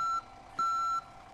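Truck reversing alarm in a roleplay video game, a steady electronic beep sounding in two long, loud pulses separated by a short gap, with no talk over it.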